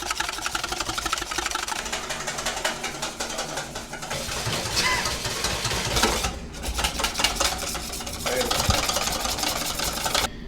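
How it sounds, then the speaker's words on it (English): Sweetened cream cheese with lemon and vanilla is whipped steadily in a bowl, a continuous close whirring churn that runs the whole time with brief rattling bumps. "Get comfy and start whipping."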